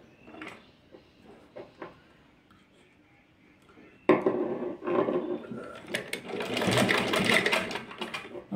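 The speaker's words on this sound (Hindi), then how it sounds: "तो यहाँ से एक सिलाई लगाएंगे हम जरा सी" Sewing machine stitching fabric for a small summer dress, a few short faint bursts followed by a louder close run of rapid rattling stitches.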